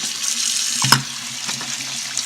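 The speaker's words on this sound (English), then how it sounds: "quick rinse and a shake." Beans rinsed under a running kitchen tap, a steady close rush of water with a brief splash and clatter partway through as the beans are shaken.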